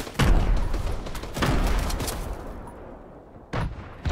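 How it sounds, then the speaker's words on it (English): Grenades exploding and gunfire in a Fortnite Search & Destroy 2v2 match on the Ice Town map: a dense, loud barrage of blasts and shots for about two and a half seconds, a brief lull, then two more sharp bursts. "Throwing grenades!"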